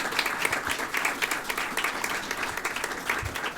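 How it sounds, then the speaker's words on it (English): An audience claps and cheers at a Cakes For A Cause baker's charity party, a dense, steady wash of applause from many hands filling the room without pause. "Go ahead and applause."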